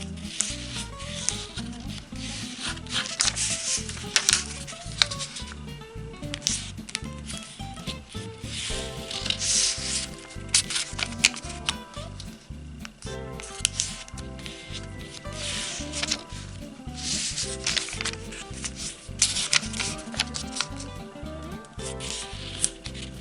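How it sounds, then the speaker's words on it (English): Origami paper being folded, corners brought in to the middle for a fortune cookie model: continuous close crinkling, rustling and creasing noises with sharp little scrapes, running steadily with no talk. "fold the 4 corners to the middle"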